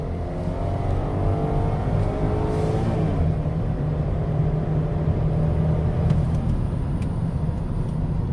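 A 2015 Chevy Traverse accelerates on a road test drive, heard from inside the cabin. Its engine drones loud and steady with a rising hum and constant road rumble, and no one speaks.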